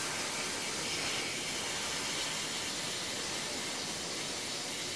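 Brake cleaner hisses steadily from an aerosol can into a small cup while parts from a Ford Super Duty fuel tank are being cleaned. The spray is close and continuous, with no talk.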